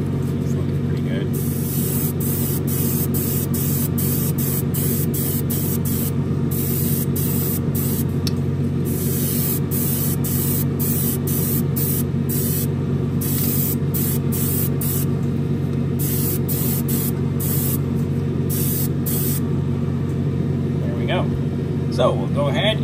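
Aerosol spray painting a Revell 1968 Pontiac Firebird 400 plastic model kit: a continuous loud hissing spray over a steady low mechanical hum, with repeated brief bursts and pauses.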